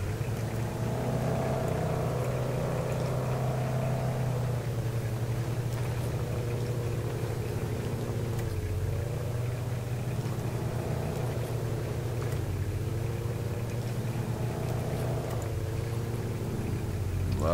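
A Mercedes-Benz G500 engine drones continuously in the off-road driving game Spin Tires, a steady loud rumble with slow rises and falls in pitch as it strains to pull free.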